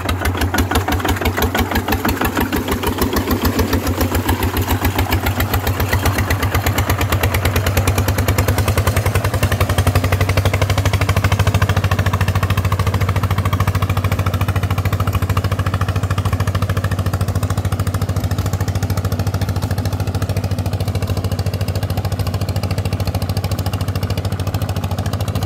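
A new Kubota ZT155 diesel engine drives a walking tractor through a rice paddy on its first run, a loud, close, rapidly chugging exhaust note holding steady throughout, with no talk.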